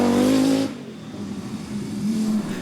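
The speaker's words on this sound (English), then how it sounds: "The Audi Quattro and Yorkshireman Chris Lord in an Audi Quattro S2." Audi Quattro S2 rally car at the 1986 RAC Rally, its engine note loud and rising in a strained rev before cutting away, then a lower continuous drone of the car driving on.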